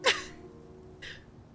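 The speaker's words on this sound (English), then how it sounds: "I hate sneezing." A short, sharp sneeze bursts out at the start, followed by a quieter breathy exhale about a second later, with faint background hum.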